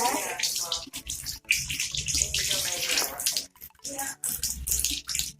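Tap water runs and splashes as hands are rinsed under a faucet, a loud close hiss of flowing water with brief pauses and changes as the hands move through the stream.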